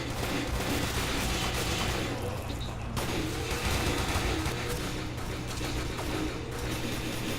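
Gunfire rattles in the tactical shooter Tactical Intervention, dense overlapping shots at moderate loudness that carry on without a break.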